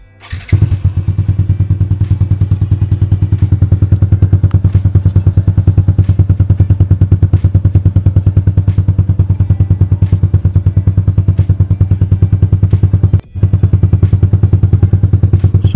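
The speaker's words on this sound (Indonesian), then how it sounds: "Jadi seperti inilah suara knalpot racing di Jupiter Z1 inlet 38 harga 100 ribuan." A Yamaha Jupiter Z1 with a cheap racing exhaust and 38 mm inlet starts, then idles steadily and loudly up close, a dense, round, throbbing putter with one brief dip near the end.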